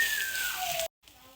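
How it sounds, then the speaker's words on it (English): Diced onions and minced garlic hit rice toasting in avocado oil with a bright, loud sizzle, a tone sliding downward under it, then a sharp cut to a much quieter hiss. "let's go ahead and add the diced up onions and minced up garlic"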